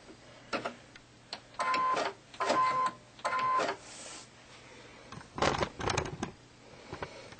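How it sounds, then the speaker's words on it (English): A sewing machine stitches through layered quilt fabric along a paper-pieced line, running in several short whirring bursts with brief stops between them, close and moderately loud. "I'm going to sew right on that line"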